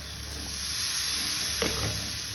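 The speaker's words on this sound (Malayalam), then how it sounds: "ചട്ടി ചൂടായതിന് ശേഷം മാവ് ഒഴിച്ച് കൊടുക്കുക." Vellayappam batter hits a hot pan with a loud, steady hiss and sizzle, close up and alone, swelling briefly at one point.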